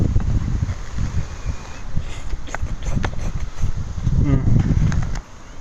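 Wind blows outdoors in Bristol, buffeting the microphone with a loud, steady low rumble for about five seconds, with stronger gusts near the end before it drops off abruptly.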